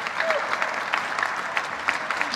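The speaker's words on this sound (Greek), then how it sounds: "ένα χειροκρότημα" An audience at a festival programme presentation applauds with a dense, even spread of clapping, steady and moderately close for a couple of seconds with no talking over it.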